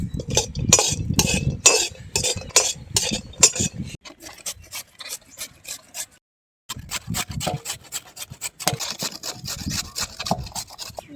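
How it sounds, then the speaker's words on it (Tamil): A ladle stirring carrot halwa cooked with ghee in a pan, making a rhythmic series of close, rasping scrapes that slow briefly and stop for a moment before quickening again. "கொஞ்ச நேரம் கிண்டுக்குவோம்."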